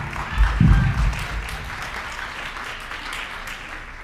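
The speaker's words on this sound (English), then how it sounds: "So give yourselves a round of applause." A school audience at a high school course selection meeting applauds loudly, clapping swelling briefly then holding steady as a dense wash of hand claps.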